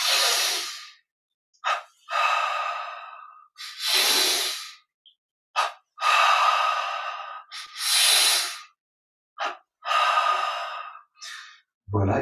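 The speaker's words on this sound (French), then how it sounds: "Inspire vers l'arrière. Expire vers l'avant. Inspire." Deep breathing in and out during a slow exercise routine, with loud, close, airy inhales and exhales in a steady alternating rhythm and short silences between breaths.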